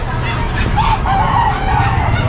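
A rooster crowing at an open-air pet market in Bocaue, one drawn-out call in the middle that rises above a steady din of crowd noise and chatter.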